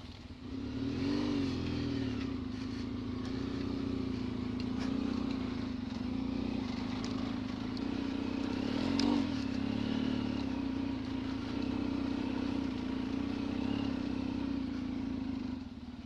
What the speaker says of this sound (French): Allez Fabien avec la KTM 790. Faut arriver à le faire d'une traite quoi.